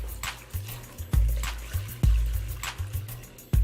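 Vegetable broth is poured through a sieve into a glass bowl in a kitchen, giving a close liquid splash and trickle with repeated soft surges, about one every half second, quiet and unaccompanied by talk.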